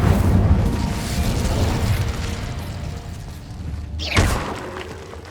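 Incendio fire spell cast in Hogwarts Legacy, a dense rumbling fiery blast that fades, then a sharp whooshing burst near the end, loud and close.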